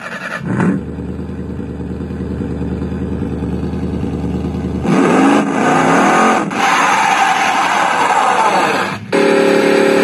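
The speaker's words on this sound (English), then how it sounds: "Gentlemen, start your engines." Race truck engines, including a 2010 Dodge Ram 2500 Power Wagon, fire up and rev at a tuning event: a steady low drone gives way to a louder, rougher roar that swells and dips, close and constant.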